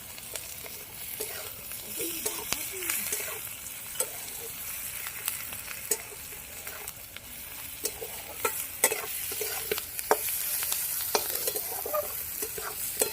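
Boiled ghetu stalks stirred in a pan with salt and turmeric, a soft continuous sizzle with repeated light scraping strokes, close and fairly quiet, no talking.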